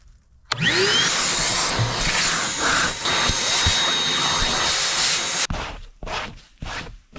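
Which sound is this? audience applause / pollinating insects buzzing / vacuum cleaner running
vacuum cleaner running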